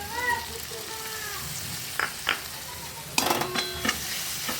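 Spices including chili powder fry in a pan for a yogurt katla fish curry, a low sizzle broken by several sharp spoon clatters against the pan, with a faint high cry early on.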